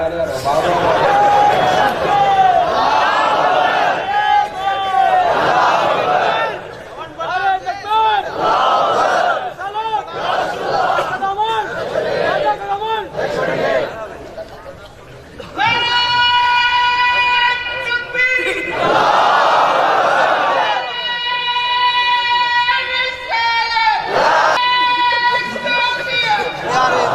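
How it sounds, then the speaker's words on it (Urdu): A large crowd at a religious gathering chants slogans loudly in unison, with repeated rhythmic bursts of massed voices and brief pauses between calls, close and energetic. "کیا ٹھنڈے نعرے لگا رہے ہیں."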